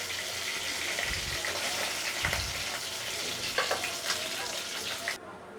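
Whole spices frying in hot mustard oil left over from frying rohu fish, a steady close sizzle with a few brief stirring clinks near the end.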